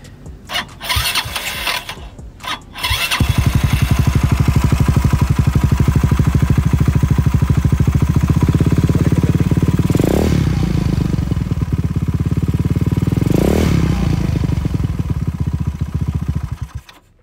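A motorcycle fitted with a Xeon aftermarket exhaust cranks a few times, then fires and settles into a loud, steady close-up idle with two brief throttle blips.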